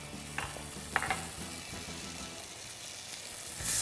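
White wine poured into a pan of frying, softened onions sets off a steady close sizzle, with a few sharp clicks of utensils early on and a swell of hissing near the end, no voices.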